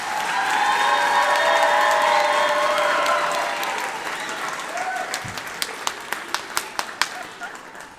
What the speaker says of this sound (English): Would you give the 8th grade band one round of applause?